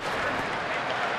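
A baseball crowd at a Phillies home game against Atlanta in May 2009 applauds Philadelphia pitcher Joe Blanton's long at-bat; a dense, steady wash of clapping and cheering fills the whole moment without letup.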